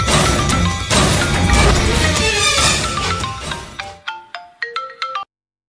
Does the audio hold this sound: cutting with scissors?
no